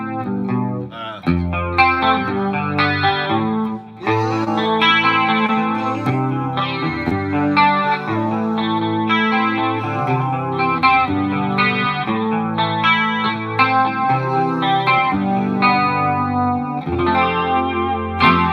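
Electric guitar played through a Headrush effects rig with cabinet simulation, a distorted, chorus-laden tone with sustained chords and melodic lines filling the whole stretch at steady, loud level.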